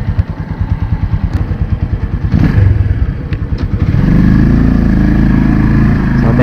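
A TDD 4642 motorcycle fitted with a custom crash guard runs while being ridden, its close, steady engine chugging in a rapid pulse that swells into a louder, denser drone about two-thirds of the way through.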